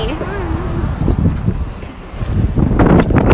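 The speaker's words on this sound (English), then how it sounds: "Ooh, it's windy. I almost blew away." Strong gusty wind blows across the microphone on a windy coastal trip, rumbling and buffeting throughout, with people talking over it.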